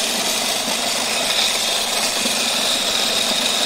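A grain mill's motor hums and grinds steadily and loudly, milling a grain mix with a broad whirring noise, no pauses or voices.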